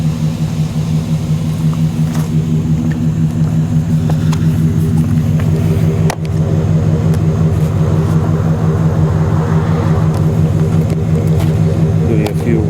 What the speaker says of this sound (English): Give you a few revs.